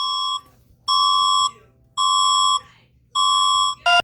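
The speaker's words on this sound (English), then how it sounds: "Is that the Philippines EAS alarm?" A Philippines Emergency Alert System alarm sounds loud and piercing: four long, evenly spaced electronic tones, each about half a second, end with a short harsh burst.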